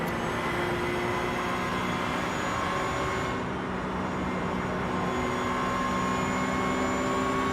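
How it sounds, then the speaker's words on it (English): The Mercedes GT race car in iRacing climbs a hill at Bathurst with a steady, loud, sustained engine drone that holds almost unchanged throughout and has no voices over it. "God, that Merc's got so much horsepower coming up the hill"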